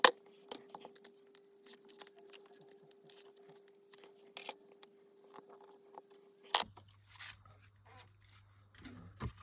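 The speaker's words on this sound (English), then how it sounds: "So put some foam tape on the back and then we're done." Foam tape peels and presses onto a card, giving soft, scattered crackles, ticks and light taps close by at low volume.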